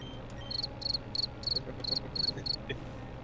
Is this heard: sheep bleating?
no